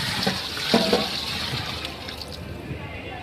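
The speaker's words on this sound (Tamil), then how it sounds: "இந்த கறி வேக வச்ச தண்ணி அளந்து அப்படியே போடுறேங்க" Meat stock pours into a pot with a gurgling, splashing rush that fades into a softer trickle, fairly close.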